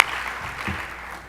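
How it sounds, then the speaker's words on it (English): Brief audience applause at a university agriculture celebration, a dense, even patter of clapping that stays level and then eases off slightly. "Another round of applause if I can."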